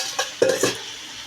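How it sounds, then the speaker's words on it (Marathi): A metal frying pan is set down on a kitchen stove to make khardā chicken, a single close, clanking contact with a brief ringing tail, followed by quiet. "खरड्यासाठी आपण पॅन ठेवणार आहोत।"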